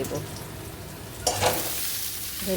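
Vegetables tipped into hot oil, a steady close sizzle that swells sharply as they hit the pan, then settles into continued frying, with no talking.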